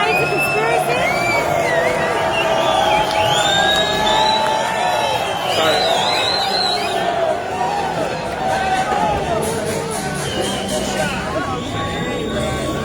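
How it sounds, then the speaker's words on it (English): Crowd at a CFMEU street protest march in Melbourne, a dense sustained roar of voices with whoops and cheering throughout, loud and continuous with traffic noise underneath. "You got people cheering from the balconies?"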